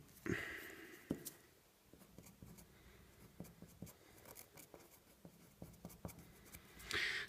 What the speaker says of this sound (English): I'm just going to write my name on the end, both end grains